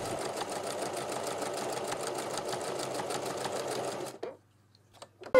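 Sewing machine zigzag stitching along the edges of a felt bag, a close, steady rapid mechanical whir for about four seconds that stops abruptly, followed by brief small clicks and handling sounds.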